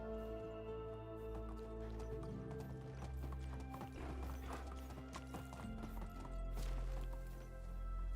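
Horse hooves clip-clop steadily while riding a horse in the medieval village-building game Medieval Dynasty, a brisk rhythmic trot heard over a layer of game music, with an occasional whinny.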